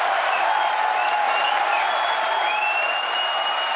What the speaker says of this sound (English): You can hear our crowd going wild.